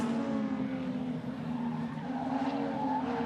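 A Holden HQ race car on the Symmons Plains circuit locks its brakes, giving a brief tyre skid over a steady engine drone heard at a distance.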